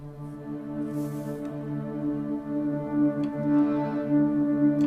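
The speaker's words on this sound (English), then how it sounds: "So the pads are basically like your sound designy type pads" A sustained, layered sound-design pad drone from the Spitfire Albion library, with mod-wheel control, holds steady tonal layers that slowly swell in loudness across the whole stretch, with no voices.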